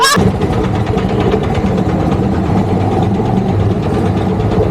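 A motorbike filled with diesel instead of petrol runs loud and close, its engine churning in a rough, steady rumble without a break.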